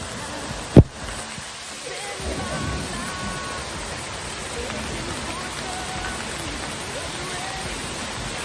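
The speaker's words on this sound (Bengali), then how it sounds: "দেখুন, শুভ্র ধারায় পানি পড়ছে।" Water pours down the Shiraito waterfall in the rain, a steady, moderately faint broadband rush with pattering rain, interrupted near the start by a single sharp knock.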